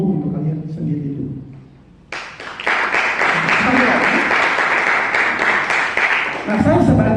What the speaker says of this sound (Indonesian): silakan beri tepuk yang gemuruh untuk kalian sendiri itu